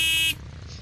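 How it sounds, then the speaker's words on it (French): A police car horn in a Minecraft DarkRP modpack gives one short, loud electronic buzzing honk that cuts off abruptly, leaving faint background hum. "Donc horn veut dire klaxon."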